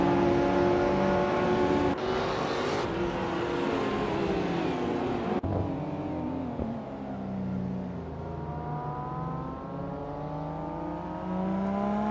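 AI-driven race cars in a video game race scream past with high revving engines, one car sweeping by with a pitch drop before the engines swell again, continuous and fairly loud with no talk.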